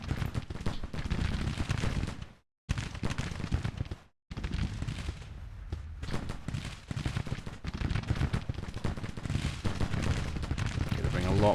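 Dense battle din from Grand Tactician: The Civil War, rolling musket volleys and artillery booms in a near-continuous roar with two brief silent gaps, and someone talking over it.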